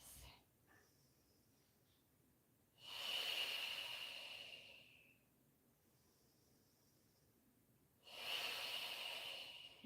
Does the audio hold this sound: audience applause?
no